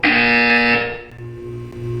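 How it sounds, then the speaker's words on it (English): In Portal 2, a loud, harsh electronic buzzer sounds for just under a second, then drops to a lower, quieter droning tone that swells again toward the end. No one speaks over it. "You will hear a buzzer."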